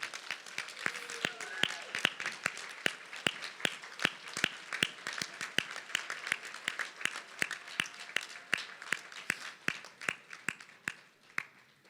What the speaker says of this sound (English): give yourself a real round of applause